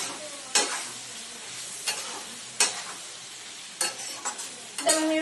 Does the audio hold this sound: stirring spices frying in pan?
yes